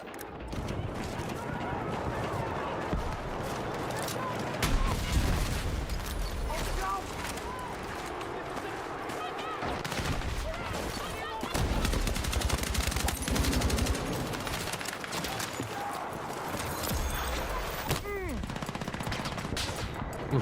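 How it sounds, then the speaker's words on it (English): Repeated gunfire in Battlefield 6, with sharp shots and rattling bursts throughout a busy, noisy fight and voices talking over the action. "Oh shit, I'm getting sniped."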